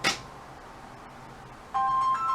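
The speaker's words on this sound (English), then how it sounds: "My phone is ringing." A mobile phone ringtone chimes in at the end as a bright, steady electronic melody, moderately loud and close, following a sharp thud and a quiet room.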